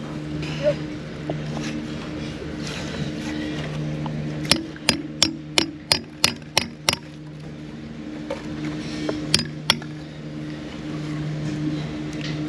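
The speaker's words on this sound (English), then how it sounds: "Hammer." A hammer strikes steady, sharp blows while a new stall is put up, about eight quick evenly spaced hits in a row followed by a couple more, over a steady low motor hum.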